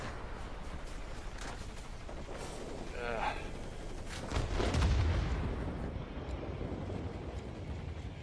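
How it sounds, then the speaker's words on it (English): A bomb dropped by an RB-17 in a video game explodes with a deep, booming blast midway through, amid scattered gunfire and engine noise. A voice talks faintly underneath. "I think we got destroyed by a bomb dropped by this RB-17."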